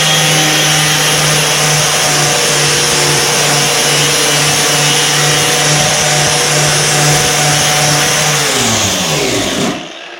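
An angle grinder works on a Dodge SRT-4 body panel with a loud, continuous high whine and steady hum that holds for several seconds, then winds down in pitch as the disc spins to a stop.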